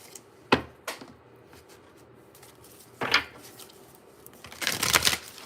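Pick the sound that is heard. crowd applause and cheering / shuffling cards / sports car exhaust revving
shuffling cards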